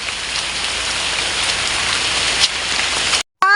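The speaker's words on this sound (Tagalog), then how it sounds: "baka magbuhos ang ulan" Heavy rain pours down in a dense, steady hiss, then cuts off abruptly near the end.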